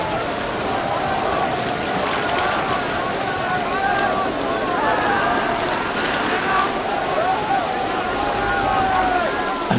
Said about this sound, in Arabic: المطر يغسل الأوساخ ويطفئ اللهب